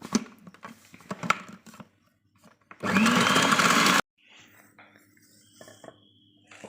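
Amid light kitchen clatter, a small electric chopper whirs loudly for about a second chopping garlic cloves, ginger and green chilies, before stopping abruptly.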